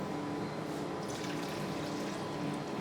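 Sorbetto gelato mix pours steadily in a continuous liquid rush, close and fairly loud with no breaks.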